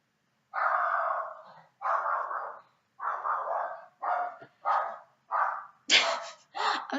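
A dog barks over and over indoors, eight or so sharp barks in a steady rhythm separated by short pauses, loud and close with nothing else heard.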